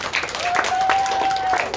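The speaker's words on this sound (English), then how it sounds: "Can we give the staff a big round of applause?" Summer camp audience clapping for the camp staff, a brief burst of steady applause with a faint whistle-like tone running through it.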